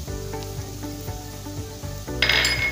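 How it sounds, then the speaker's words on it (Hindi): Fried onions and spices sizzle in a pan for a roasted eggplant bharta. The hiss is steady and close, with a few light clinks of a utensil stirring the pan. "तो यहाँ पे हमारे प्याज फ्राई हो चुके हैं। तो अब इसके अंदर मसाला जार जाएंगे।"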